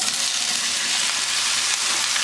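Okra added to a hot pan of garlic and ajwain for spiced curd bhindi, frying with a steady, bright, hissing sizzle that stays even and close throughout, with no voices.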